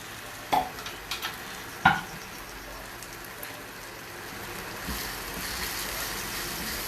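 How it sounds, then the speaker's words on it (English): Ground masala frying in oil in a home kitchen, a steady soft sizzle and crackle with a couple of sharp stirring clacks near the start, fairly quiet and close, no talk. "cook it a little bit till it leaves out the oil in it"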